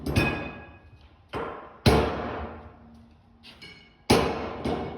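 An impact gun works stuck wheel fasteners loose on a Sion car during a wheel bearing and pads job, giving sharp, loud metallic bursts in three main strikes, each trailing off, with quieter clunks between.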